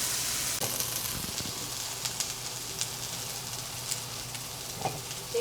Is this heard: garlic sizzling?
yes